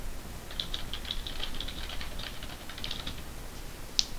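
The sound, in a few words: typing on a computer keyboard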